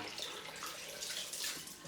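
Cold water runs from a tap in a steady, hissing stream, fairly quiet and close, with no voices.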